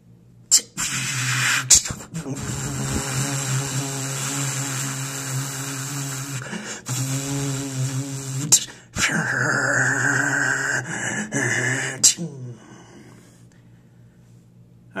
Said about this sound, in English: It's the machine room to the man-powered elevator. Let's send it up and let's listen.